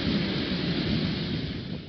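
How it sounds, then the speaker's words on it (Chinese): Torrential rain from Hurricane Irma pours down on the southern Florida islands, a loud, steady, unbroken roar of heavy downpour and storm wind with deep rumbling underneath. "為當地帶來滂沱大雨"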